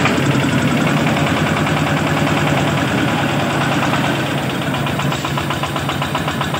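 A 4x4 truck's engine idles steadily and loudly up close, a continuous rough, knocking rumble with no pauses.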